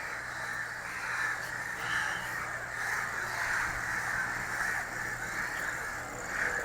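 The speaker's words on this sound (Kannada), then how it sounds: "ಕಾಗೆಗಳಿರ್ಬೋದು ಬೇರೆ ಬೇರೆ ಬರ್ಡ್ಸ್ಗಳು ತುಂಬ ಸೌಂಡ್ ಇಲ್ಲಿ" Crows caw repeatedly at a moderate distance at night near KRS dam, overlapping calls rising and falling against a steady outdoor background hum.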